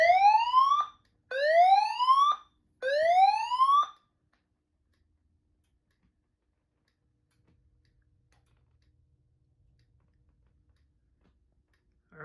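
Notifier AM2020 fire alarm panel sounding three loud rising whoop tones in quick succession, each about a second long with short gaps, followed by near silence.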